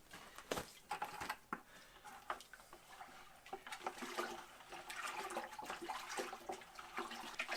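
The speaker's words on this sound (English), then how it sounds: "as I got it swirling around there, I'm going to pour it into the next bucket" Muddy clay water poured from one bucket into another, splashing and gurgling in uneven bursts that build into a steadier pour, fairly quiet and close with no talking.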